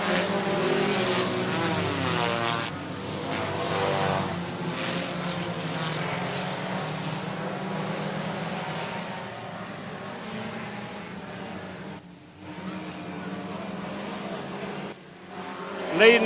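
Race cars on the track at 105 Speedway during a regular race program, a loud, sustained roar of engines with rising and falling whine as the pack pulls away, briefly dipping before surging again, with no talk over it.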